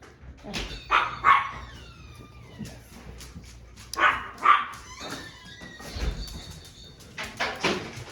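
Several dogs barking in short bursts, some sharp yips and whimpers mixed in, fairly close, with pauses between volleys.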